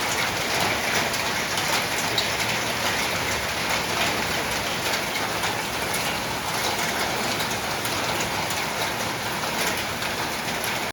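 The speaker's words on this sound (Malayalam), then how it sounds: "ഇപ്പോഴും മഴ പെയ്യുന്നുണ്ട്" Monsoon-season rain falls steadily and evenly, a constant close wash of patter on surfaces with no let-up across the whole stretch.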